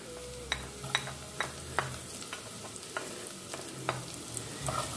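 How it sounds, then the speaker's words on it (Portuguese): Onions and garlic frying in a pan give a soft, quiet sizzle, broken by several sharp clicks and scrapes of stirring spaced irregularly throughout. "Então a gente vai deixar dar uma murchada, uma leve fritada nesse alho também"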